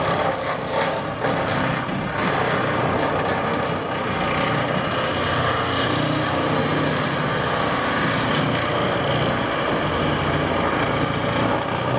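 Power nibblers cut metal roof trim for a porch roof, a constant loud buzzing motor whine with a grinding edge that runs unbroken throughout.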